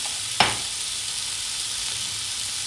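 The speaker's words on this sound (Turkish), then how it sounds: "artık kıymamı ilave edip kavurmaya devam ediyorum" Ground beef with leeks frying in a pan, a steady soft sizzle throughout with one sharp clack of a utensil near the start.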